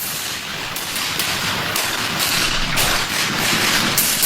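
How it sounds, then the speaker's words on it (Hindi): Dense, continuous gunfire effect for a documentary on the Jallianwala Bagh massacre, a loud sustained barrage of rapid overlapping shots with no voices over it. "अगले 10 मिनट तक लगातार गोलियां चलती रहीं"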